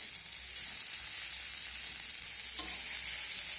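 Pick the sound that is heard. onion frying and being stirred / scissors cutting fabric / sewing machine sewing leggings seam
onion frying and being stirred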